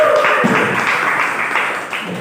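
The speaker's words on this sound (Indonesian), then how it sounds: "Oke, tepuk tangan untuk kelompok 2" Classroom of students clapping for the second group after its presentation in a lesson, a steady, fairly close burst of applause lasting a couple of seconds and gradually thinning out.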